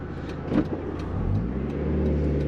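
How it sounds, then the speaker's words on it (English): A 1992 Mazda Miata with a 1.6 liter inline-4 engine idles smoothly and steadily at close range, a low even purr with slight swells and no voices. "that engine, it purrs."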